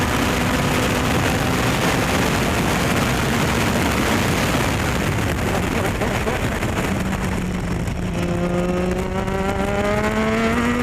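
A Star Mazda race car howls around a track at Buttonwillow, its loud engine note climbing and falling through gear changes over steady wind and road roar, with rising pitch sweeps late in the run.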